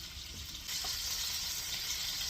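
Liver frying in a pan, a steady soft sizzle that swells slightly partway through, quiet and close with no talking.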